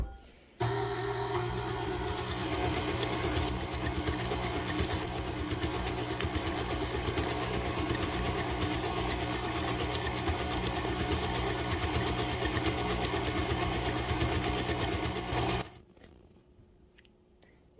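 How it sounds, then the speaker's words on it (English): An electric mixer beating sticky molasses spice cookie dough, a steady mechanical whirring hum that runs continuously for about fifteen seconds, with two brief clicks partway through, then cuts off abruptly into silence. "we are going to then turn on the mixer and get those mixed together as well"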